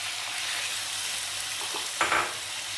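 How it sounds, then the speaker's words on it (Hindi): Boneless chicken pieces hit hot oil in a pan, giving a steady close sizzle that swells into a brief louder crackle near the end, with no talking. "ऑयल गर्म हो चुका है, चिकन ऐड करते हैं"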